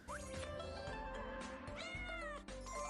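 A cartoon cat in a children's English-learning game gives a clear, close meow, a single drawn-out call that rises and falls, alone without speech.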